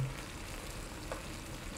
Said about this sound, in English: I can start to hear it sizzling now